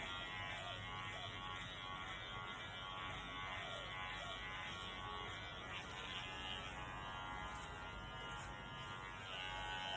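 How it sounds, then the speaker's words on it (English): Electric hair clippers buzzing steadily while cutting and sloping a gradient into hair, including at the back, a constant close electric drone with slight fluctuations as the blades move through hair, no talking over it. "Okay, stop the clippers"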